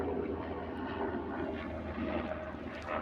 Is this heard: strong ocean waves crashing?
no